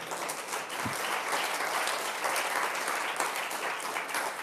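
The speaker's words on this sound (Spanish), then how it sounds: "Denle ese aplauso fuerte al Señor." A church congregation applauds during a Spanish-language sermon, a steady, dense roar of many hands clapping at once, held at an even level for several seconds.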